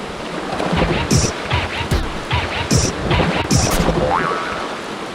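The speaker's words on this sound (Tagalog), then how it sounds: "Nakatakot sila kasi may alon dito." Ocean waves washing into a secret lagoon, a steady rushing surf with repeated swells and wind noise, loud and close throughout.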